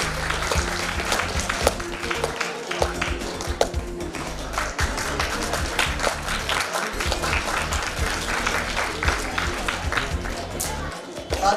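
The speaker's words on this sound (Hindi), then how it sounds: "तालियों के साथ।" Audience applause fills a hall at a state school chess championship, a sustained broad clatter of many hands with sharper taps standing out, while a voice talks over it intermittently.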